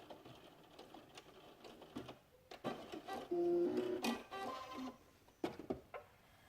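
Sewing machine stitching along a rockabilly-style neckline next to the shoulder strap: short bursts of motor whir, one steady run in the middle, with small clicks and handling noises between, fairly quiet and close.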